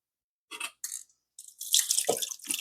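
Cold-steeped coffee and tea poured carefully from a container, a few short splashing trickles followed by a longer, fuller stream of liquid, close and clear with no speech.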